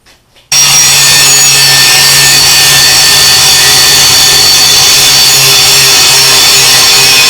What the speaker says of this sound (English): I just sharpened an edge on this blade.